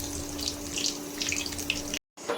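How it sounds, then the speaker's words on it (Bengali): Areca flower fritters in besan batter fry in hot oil, giving a steady hissing sizzle with bright crackles up close. The sound breaks off briefly, then resumes. "এদিকে ভাজাভাজি হচ্ছে সবগুলো"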